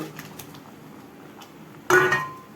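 Okra dropped into a hot pan of tempered drumstick and onion, giving a sudden loud sizzle that bursts in near the end and fades slightly, after quiet faint clinks.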